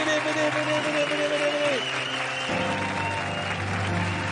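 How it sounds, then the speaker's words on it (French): Studio audience applause on a French television entertainment show, steady dense clapping mixed with music tones and some crowd noise, continuing throughout at a fairly loud level. "Applaudir avec moi l'excellent Jean-Pierre Foucault et la magnifique Catherine Laborde."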